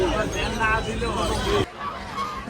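Geese honking at a busy poultry market, several nasal honks in the first half over crowd babble, then quieter background chatter.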